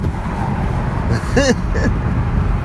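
A Volvo V50 T5 turbo wagon with all-wheel drive and a six-speed manual accelerates hard, a steady low engine and road roar heard from inside the cabin, with a brief voice exclamation partway through.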